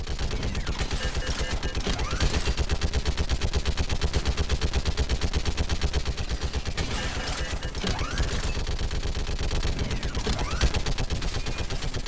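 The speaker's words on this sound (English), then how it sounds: "Keep firing!" In Mass Effect 3, automatic gunfire rattles in rapid, relentless bursts throughout, loud and close, with brief pauses between volleys and faint battle noise behind.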